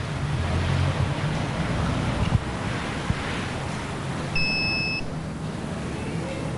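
A breathalyzer used in a roadside alcohol test gives a steady electronic beep lasting about half a second, heard over heavy outdoor wind and traffic rumble.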